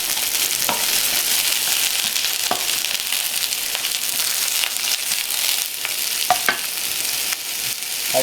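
Mushrooms frying in a hot pan over high heat, giving a steady, close sizzle throughout with a few brief scrapes and stirring clicks.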